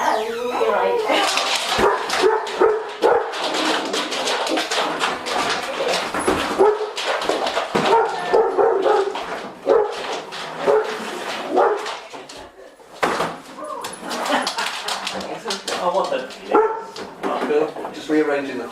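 A dog reacts to someone entering its home, giving repeated barks, yips and whimpers at close range while people talk calmly over and around the noise throughout.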